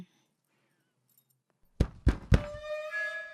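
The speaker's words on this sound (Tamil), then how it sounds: "ஐயோ உள்ள இருக்கிறது தெரியாம கதவை சாத்திட்டம்மா" A door is shut in three quick, heavy thunks after near silence, followed by a lingering ringing tone as the sound fades.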